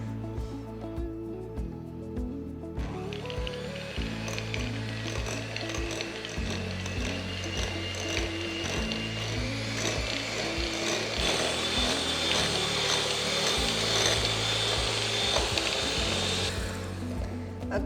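An electric mixer creams butter for buttercream icing with a steady motorized whir and a rhythmic rattling churn. The sound grows louder and brighter partway through and runs continuously with no talking.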